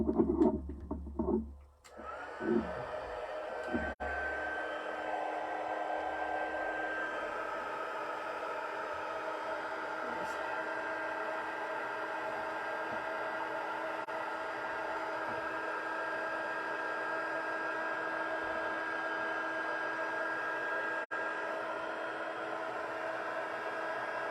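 A heat embossing tool blows hot air onto a stamped card during a Stampin' Up! Christmas Lights craft project, a steady, moderately quiet fan hiss that runs unbroken for over twenty seconds after a brief handling noise at the start.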